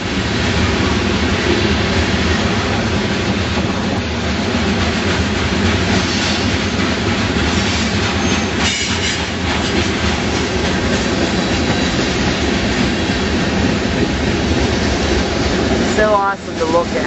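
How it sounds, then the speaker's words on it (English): A long graffiti-covered train rolls steadily past close by near an Amtrak station, wheels clacking and rumbling continuously, with a brief metallic squeal near the end. "It's a long train."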